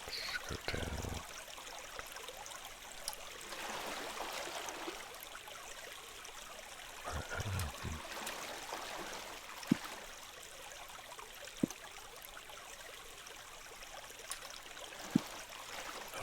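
Flowing water in the Minetest video game, a faint, steady trickling stream running throughout with a few soft clicks scattered over it and no talking.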